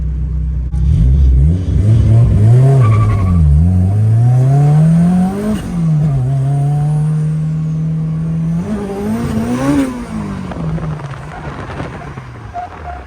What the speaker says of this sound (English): let Jake do a lap in the old S2000, the undriftable car